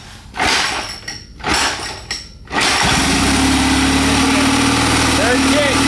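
A military generator engine on a turbocharged 4-speed mini bike is kick-started: a few loud whooshing kick strokes, then the engine catches and runs at a steady close roar, with talk heard over it.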